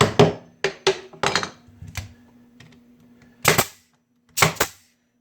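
A stapler fires in a wood shop: sharp, close snaps, several in a quick uneven cluster and then two more after a pause, with quiet room tone between them.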